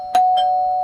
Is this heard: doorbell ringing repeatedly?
yes